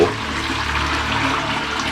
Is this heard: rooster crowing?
no